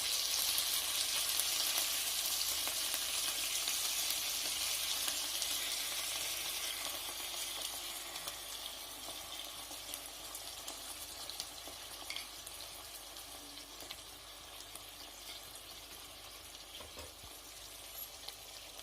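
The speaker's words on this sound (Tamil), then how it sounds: "இப்போ நம்ம செஞ்ச சாஸை அது மேலே ஊற்றிக்கலாம்." Sauce poured over eggplant in a hot pan sets off a loud, hissing sizzle that starts strong and gradually settles to a softer, steady crackle.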